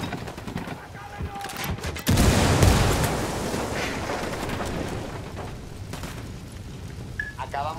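A grenade blast and bursts of gunfire in the video game Tom Clancy's Ghost Recon Wildlands, a loud sudden boom followed by sustained rumbling and crackling shots, with voices speaking around it.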